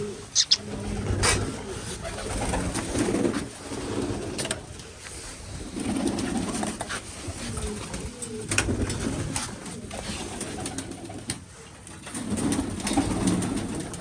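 A flock of pigeons coos steadily while being fed mixed grain in a Punjab village, soft rolling calls repeating in waves alongside scattered chirps and light rustling.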